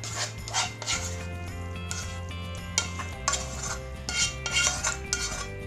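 Cabbage and mushroom filling being spooned onto pie dough, heard as light clinks and scrapes of cutlery against dishes over background music, with a dog barking at times.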